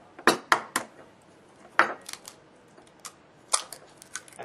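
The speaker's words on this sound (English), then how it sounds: "So we break the egg." A supermarket egg is cracked open in an egg-yolk experiment, with quiet sharp taps and clicks in small clusters against near silence and no talking.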